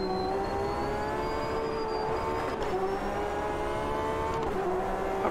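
Race cars lap Monza in the Automobilista 2 racing game during an IMSA event, with a loud, sustained engine whine whose pitch shifts through gear changes and a couple of brief passing swells, with no talk.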